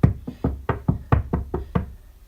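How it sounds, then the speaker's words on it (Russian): More suspicious knocking in a house sounds as eight dull, hollow thuds in quick succession, close and moderately loud, trailing off slightly at the end, with no talk. "И еще стуки."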